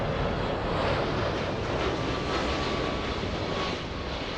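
A heavy jet such as a 747 on final approach at LAX gives a steady, broad engine roar with a faint whine, continuous and fairly distant, with wind rumble and no speech.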